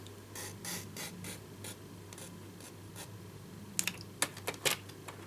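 A paper trimmer blade slices cardstock in short scratchy strokes, a few faint swipes early and then a quick cluster of sharper cuts near the end, quiet and close.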